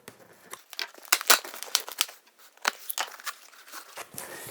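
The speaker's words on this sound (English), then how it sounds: "what I'd like to do is just start cutting the tape and then just let that tape kind of open itself up" Packing tape on a double-wall cardboard box is sliced open, giving close crinkling, crackling and tearing bursts in quick irregular succession.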